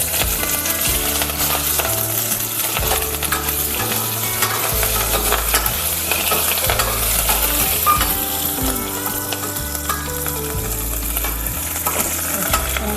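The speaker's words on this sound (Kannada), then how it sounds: "ಹಸಿಮೆಣಸಿನಕಾಯಿ, ಶುಂಠಿ, ಆಮೇಲೆ ಕರಿಬೇವು ಇಷ್ಟನ್ನು ಹಾಕಿ ಚಂದ ಬಾಡಿಸ್ಕೊಂಡು" Green chilli, ginger and curry leaves sauté in a pan for a gooseberry dal, with a loud continuous sizzle and hiss and repeated metallic stirring clinks and taps all the way through.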